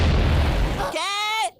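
A cartoon bomb blast in a SpongeBob SquarePants episode dubbed in Korean: a loud, roaring explosion rumbles for nearly a second, then gives way to a brief, bright, tonal cartoon effect before cutting off.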